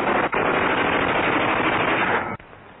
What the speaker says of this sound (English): Machine gun bullets search for any seeking escape.